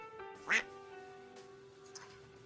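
A single duck quack sound effect rings out clearly over a steady electronic hum during a live antique kitchenware auction stream.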